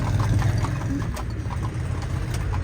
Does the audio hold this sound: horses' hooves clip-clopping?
yes